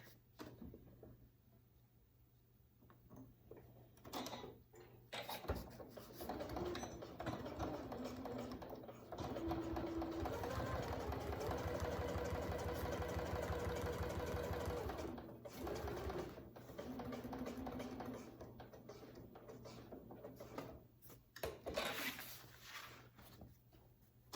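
A sewing machine fitted with a zipper foot stitches in a quiet room, its fast mechanical whirr steady for several seconds in the middle, with short bursts and pauses of the motor before and after.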